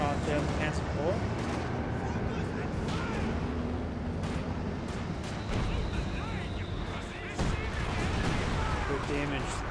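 Gunfire and cannon shots crackle through a Company of Heroes 2 battle as a Panzer IV takes a hit, dense overlapping bursts and thuds filling the scene under steady commentary.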